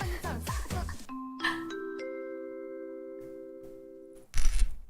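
A bright chime alert sounds during a livestream, a stack of sustained bell-like tones rising in steps and ringing out for a few seconds, with brief noise before and after it.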